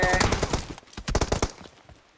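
Rapid bursts of automatic gunfire in the PUBG battle royale video game, loud and close, firing in quick clusters that thin out toward the end.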